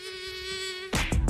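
A tiger mosquito buzzes in a steady, close whine with a strong tonal hum, cut off near the end by a louder burst of broadband noise.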